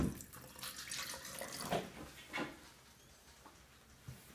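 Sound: water being poured into a container

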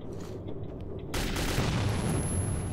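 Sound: grenade explosion in video game Metro 2033

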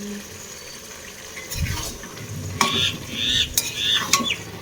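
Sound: flat beans frying in a pan

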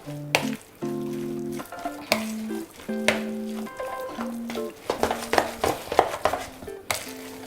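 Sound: mixing minced chicken for cutlets

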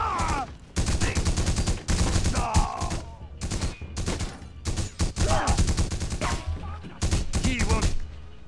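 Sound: gunfire in The Punisher video game

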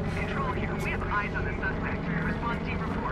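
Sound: helicopter in video game Mirror's Edge Catalyst

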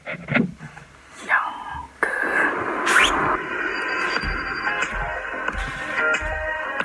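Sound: A song being played

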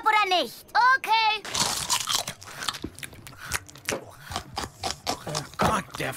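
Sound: someone eating noisily, crunching and chewing food

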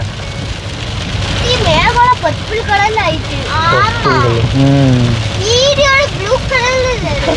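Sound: heavy rain falling

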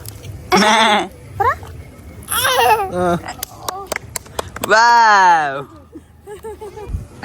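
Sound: child imitating goat bleat

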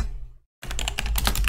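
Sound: typing echo commands on a computer keyboard

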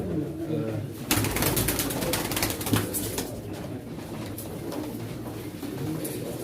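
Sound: pigeons cooing at a pigeon auction

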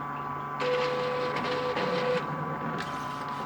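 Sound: tablet-based UV printer starting to print

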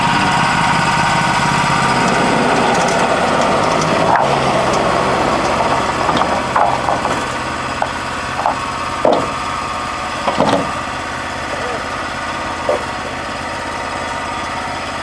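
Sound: Wood-Mizer sawmill with new engine running

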